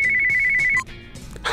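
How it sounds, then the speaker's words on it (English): A telephone ringtone rings loudly and steadily as a repeating electronic melody, then cuts off abruptly, leaving quieter background sound. "Oh, another phone call."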